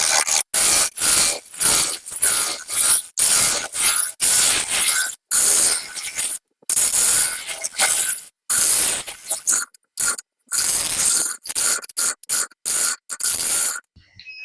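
Woodturning tool cutting the walls of a wooden bowl on a lathe, loud scraping and shaving bursts in rapid uneven strokes separated by brief silent gaps, close and without speech.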